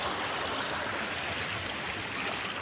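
Overflowing rainwater after a heavy downpour rushes steadily nearby, a dense continuous broadband wash of flowing water with no voices over it.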